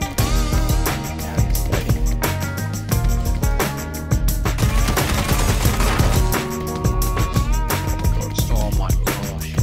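Rapid automatic gunfire in PUBG (PlayerUnknown's Battlegrounds) rattles in dense, continuous bursts across the whole stretch, loud and close, with busy game sound layered over it.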